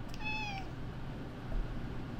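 A cat gives one short, clear meow close by, followed by quiet room hum and a faint bump.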